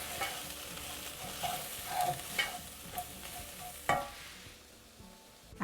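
Curry spices with salt and chili powder stirred and lightly sizzling in a pan, soft scraping and frying crackle with a few louder clinks, fairly quiet and with no talk.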